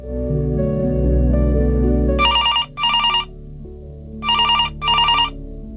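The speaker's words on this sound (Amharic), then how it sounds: "ስልኩ ሲንጫረር ለማንሳት ስትሄድ ቀድሞ አነሳው።" A telephone bell rings in two double-ring bursts, bright and insistent, over a low sustained musical drone.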